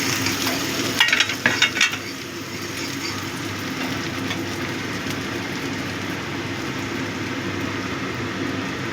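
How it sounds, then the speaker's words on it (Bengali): Grated coconut frying in a pan for a banana stem dish, a continuous close sizzle with a few stirring scrapes early on, no talking. "নারকেল কোড়াটা দিয়ে একটু ভাজা করে নেব।"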